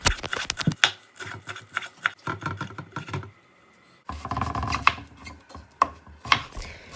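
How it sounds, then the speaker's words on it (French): A knife finely chops parsley rapidly on a cutting board, close and rhythmic, in quick bursts of taps separated by a short pause. "Ensuite, je coupe finement mon persil."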